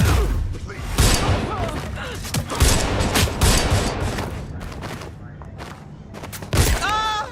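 Repeated gunshots and heavy thuds from a Watch Dogs Legion shootout ring out in quick, irregular bursts, loud and close, with a short pause near the end before another sharp report.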